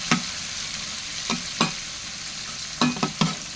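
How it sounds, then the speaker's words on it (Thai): Mackerel dry-roasting in a pan gives a steady sizzle, broken by a few sharp scrapes of stirring spaced through the moment, close and clear with no talk. "แต่เพียงจะจะคั่วให้มันหอมหอมจริงๆนี้ ปลาทูมันค่ะทุกคน"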